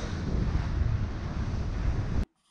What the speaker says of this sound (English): pretty exciting wind, 22 to 25 knots